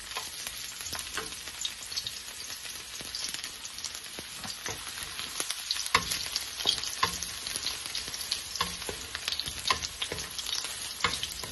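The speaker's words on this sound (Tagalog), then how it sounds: "Lagyan na po natin yung garlic." Garlic fries in hot oil for chicken tinola, with a dense crackling sizzle and frequent sharp pops close by, and occasional stirring scrapes.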